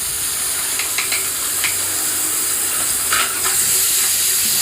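Tomatoes fry in a pan with golden-browned ingredients for flattened-rice upma, a strong continuous sizzle broken by several sharp scraping strokes of a spoon stirring the mix.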